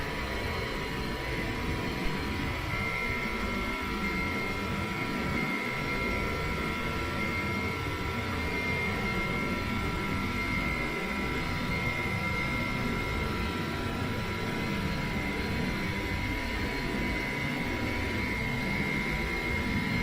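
Boeing 707 jet engines in a flight simulator whine steadily at taxi power, a constant broadband roar with a high tonal hum running unbroken, no talking.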